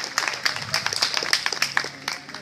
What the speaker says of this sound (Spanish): Esas palmas, que se escuche el vigor de la juventud